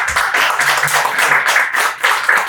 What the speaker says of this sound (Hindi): उनके लिए भी जोरदार तालियां हो जाए।